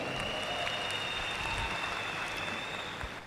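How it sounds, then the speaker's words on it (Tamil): Audience at a Tamil motivational seminar breaking into sustained applause, dense hand-clapping that fills the room evenly and fades slightly toward the end, with no talking over it. "உங்களுக்கு மிகப்பெரிய பாராட்டு கொடுத்துடலாம் பாருங்க"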